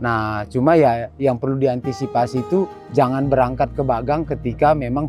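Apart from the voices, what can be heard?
No everyday noise stands out behind the speech.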